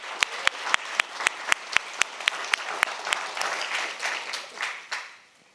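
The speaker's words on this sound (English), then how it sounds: "I hope that you will join me in a round of applause for all of the generous donors who have made this possible." An audience applauds for donors in a burst of sharp individual claps mixed with a dense clapping wash, fairly close, tapering off and fading out toward the end.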